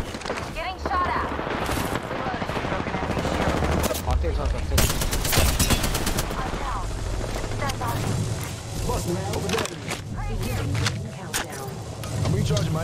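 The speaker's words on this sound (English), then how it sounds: "Target spotted. Firing. Getting shot at." Rapid gunfire crackles through a shooter video game, with bursts of automatic fire and booming impacts layered under a player's ongoing talk, loud and busy throughout.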